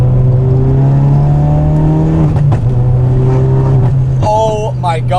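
Tuned 450bhp Ford Focus RS with a bang tune, its engine droning steadily at speed on back roads before a gear change and rising rev, heard from inside the car.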